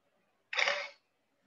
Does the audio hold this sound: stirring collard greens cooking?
no